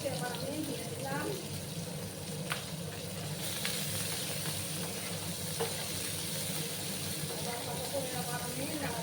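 Chopped onions fry and get stirred in a pan, a soft, steady sizzle with faint scraping underneath a voice talking over it.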